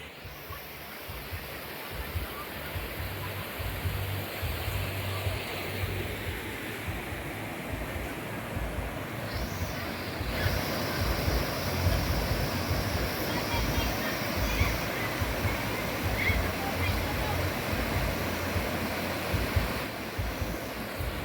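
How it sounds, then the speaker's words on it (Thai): Huay Chan waterfall flows in a steady, broad roar, loud and continuous throughout, with a faint hum running underneath and no clear voices. "นั่นก็คือบรรยากาศของน้ำตกห้วยจันทร์ประจำวันที่ 28 กันยายน 2567"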